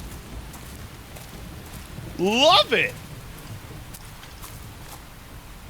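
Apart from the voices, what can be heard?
rain falling in the video game Xenoblade Chronicles X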